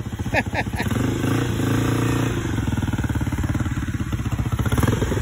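A customized motorcycle engine putters and revs up close, its rapid firing pulses rising and falling, with voices talking over it.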